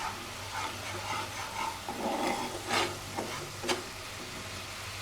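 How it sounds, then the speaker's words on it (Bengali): Spices are stirred and fried in a pan for fish bhuna, with soft sizzling and intermittent scraping strokes of a spatula, quiet and close, with no voices. "আর সব রকম মশলা দিয়ে এখন মশলাটা ভালো করে কষিয়ে নিয়ে রান্না করে নেব মাছ"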